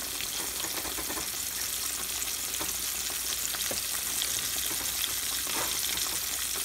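Fish frying in a hot pan, a steady crackling sizzle with occasional sharper pops and spits, close and continuous with no talking.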